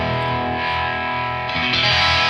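Heavily distorted electric guitar chords ring out loud and sustained through an ENGL amp with gain fully up, with a thick, saturated buzz and a fresh strum near the end.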